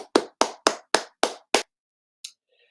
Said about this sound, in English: A round of applause for all of them.